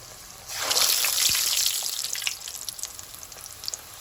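Bhatura dough dropped into hot oil sets off a loud, close burst of bubbling and sizzling that settles into a steadier crackling fry, heard alone without talk.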